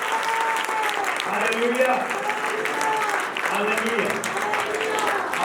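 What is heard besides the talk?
audience applause at a church event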